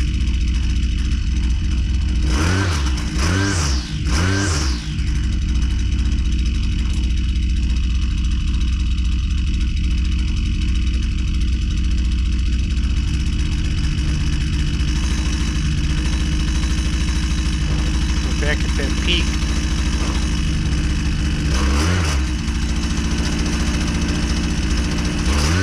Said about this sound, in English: And if we richen it up from there, the RPM is going to go down.